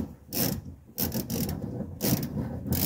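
Shaved-down wrench working a bolt on the fuel sender of a 1985 Mercedes 300SD diesel, a few quiet bursts of clicking metal ratcheting separated by short pauses, close by.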